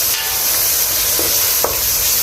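Beef tikka karahi with chillies and coriander sizzling in a pan, a loud continuous hiss and crackle close up, with a couple of brief stirring scrapes.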